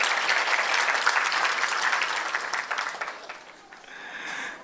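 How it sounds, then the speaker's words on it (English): An audience claps together in sustained applause, dense and fairly close at first, then thinning and fading toward the end. "give a big round of applause for each one of you"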